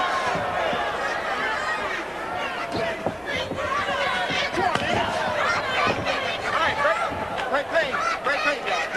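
Boxing match crowd between Davarryl Williamson and Leroy Berbick in the first round, a steady restless murmur of many voices with scattered shouts, filling the whole stretch at a constant level.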